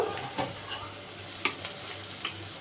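Jackfruit seeds and spice paste sizzle and fry in a pan, a steady close crackle with a few soft stirring knocks, no voices.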